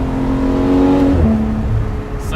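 Car exhaust system revving on a fresh mountain driving road, a loud steady engine drone whose pitch climbs, dips and settles again over a couple of seconds, close and continuous with no talk.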